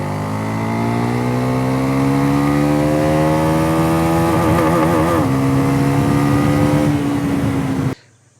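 A Bajaj Pulsar NS400Z 400cc motorcycle engine revs up close and loud, its pitch climbing steadily over several seconds before the sound cuts off abruptly.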